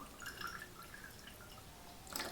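Water rinsing through the radiator hose of a Kawasaki ER6N motorcycle during a radiator flush, soft gurgling drips and trickling, faint and close, ending in a brief louder splash.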